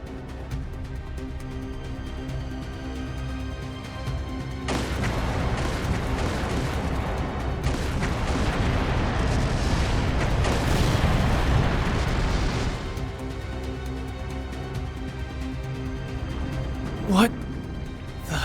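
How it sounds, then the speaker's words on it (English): Gunfire and explosions in a city during a battle in The Legend of Heroes: Trails through Daybreak II, heard as a dense, continuous roar of booms and bursts that swells in the middle and ends with one sharp hit. "Confirming source of gunfire."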